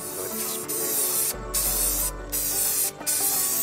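Paint sprayed from an aerosol can onto RV storage compartment handles, loud hissing bursts in several pulses with brief pauses between them.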